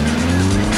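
A car engine revs loudly and steadily at close range, a continuous throaty roar lasting under a second.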